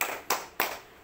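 Two sharp group claps about 0.3 s apart, part of the 'tepuk mantap' clapping chant led with a group of mothers at a health and nutrition session, fairly faint and with no talk over them.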